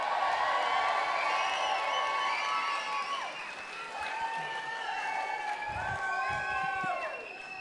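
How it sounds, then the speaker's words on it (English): A comedy club audience at the Laughter Lounge in Dublin cheers loudly, with rising whoops and shouts from many voices layered over a continuous crowd roar that swells and fades over several seconds. "Could I have a big cheer from everyone?"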